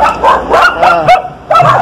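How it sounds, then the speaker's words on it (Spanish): Several dogs bark from inside a nearby house, a burst of sharp barks and yips in quick succession with a short pause before a final bark. "No se preocupen que los perros están dentro de una casa."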